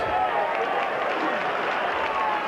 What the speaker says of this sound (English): Rounds of applause for the tackling.